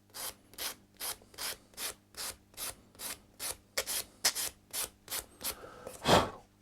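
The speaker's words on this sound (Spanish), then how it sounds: "Hay una pequeña rebabita aquí, vamos a eliminarla" A small burr is rubbed off a plastic headlight part of a Mosler MT900 R model car, producing a steady series of about fifteen evenly spaced scraping strokes, close and soft, ending in one louder swipe, with no talking.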